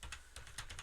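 Short, quick burst of keystrokes on a computer keyboard, with several distinct clicks in fast rhythm, close and fairly faint, with no voice.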